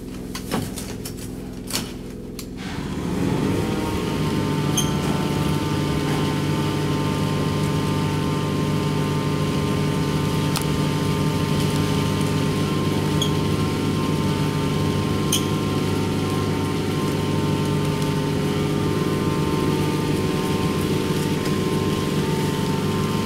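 An insulation blowing machine starts up and then runs as a steady loud whooshing hum with a constant tonal drone, pushing insulation through a tube at a Lutheran church, continuous and close with no talk.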